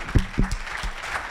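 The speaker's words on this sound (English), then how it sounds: "Give a round of applause to Clement." Brief audience applause for a pitch presenter at a startup weekend pitch event, a short patter of clapping with a few heavier low thumps near the start.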